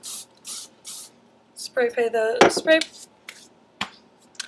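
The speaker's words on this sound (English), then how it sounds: "going to spray them real quick" Hair spray hisses onto flat-iron curls in three short bursts, followed by a few brief taps and rustles, with talking in the middle.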